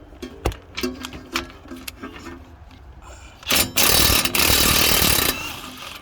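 A few scattered clicks and knocks, then a loud, steady burst of a pneumatic impact wrench hammering on a front axle nut of an Infiniti for about two seconds before cutting off.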